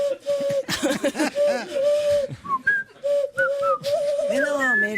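A woman whistles a wavering tune, with bright pitch slides and short breaks, accompanied by laughter and brief voices in the background.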